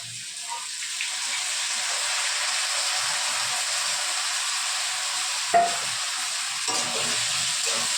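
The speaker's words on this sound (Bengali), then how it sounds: "আলুটা কুমড়োটা ভাজাবো," Potato, pumpkin and soaked chickpeas fry in a pan with a steady, even sizzle that holds throughout, with one brief clink partway through and no talking.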